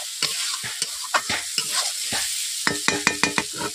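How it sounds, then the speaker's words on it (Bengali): Spice paste with water and all ingredients being stir-fried in a kadai, a close soft sizzle broken by repeated sharp scrapes and taps of the spatula, quickening into a rapid run of strokes toward the end. "জল দেওয়ার পর সবগুলো উপকরণ দেওয়ার পর আমি এইভাবে কষে নিচ্ছি 2 থেকে 3 মিনিট"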